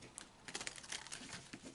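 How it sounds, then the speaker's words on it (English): Oracle cards being shuffled by hand for a weekly reading, a soft papery riffling and crinkling that runs steadily for a couple of seconds, quiet and close, with no talking over it. "I'm going to shuffle the cards."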